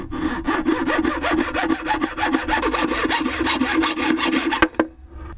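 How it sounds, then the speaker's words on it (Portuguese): Displacer piston rod of a homemade Stirling engine being cut while clamped in a vise. Loud, fast, even back-and-forth rasping strokes run steadily for several seconds with no voices. "Após cortar a haste do pistão deslocador, deverá ser lixada essa extremidade para que não danifique o cabeçote."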